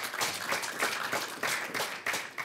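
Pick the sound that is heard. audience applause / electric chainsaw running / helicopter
audience applause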